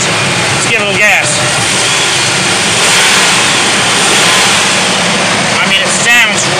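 Engine of a 1998 Ford F150 with a side exhaust pipe, running steadily with a loud broadband roar and slight swells as it is given some gas, with brief voices near the start and end.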